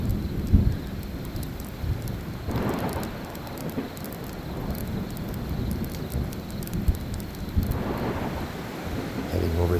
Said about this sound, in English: I heard thunder and I saw lightning.